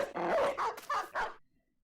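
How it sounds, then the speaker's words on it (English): Dogs in the video game Battle Brothers give a quick run of several loud barks and yips close at hand. The barking then stops abruptly into silence. "I think I'll have to unleash dogs here."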